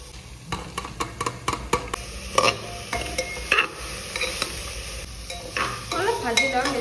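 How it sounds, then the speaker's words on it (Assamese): Spice masala fries in a pan with a little water added, giving a steady sizzle under repeated sharp scrapes and taps of a spoon stirring against the metal. "অলপ ভাজি ল'ম, বেছি নাভাজো।"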